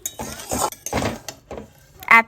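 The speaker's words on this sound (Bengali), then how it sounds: "2 to 3 মিনিটস নাড়াচাড়া করলেই আমার ড্রাই চিলি মাশরুম রেডি" Fried mushrooms for dry chili mushroom are stirred in a pan, with a few rhythmic scraping strokes close by and a sharp utensil clink at the end, no talking.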